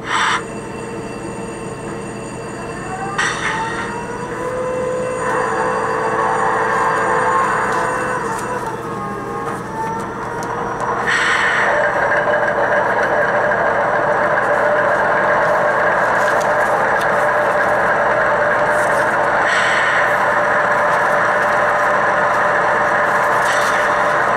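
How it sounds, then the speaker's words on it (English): Intermountain ET44AC GEVO model locomotive with an ESU Loksound Select decoder starting up on a layout: a brief horn-like burst and clanks, then the prime mover spins up into a steady, loud diesel drone that builds and holds, with no talk. "So I'm going to start up the locomotive using function 8."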